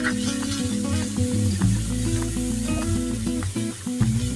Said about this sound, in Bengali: চিংড়ি মাছটা দিয়ে দিচ্ছি আমি এটার সাথে একসাথে মশলার সাথে কষিয়ে নেব।